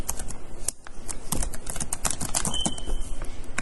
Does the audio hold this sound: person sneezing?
no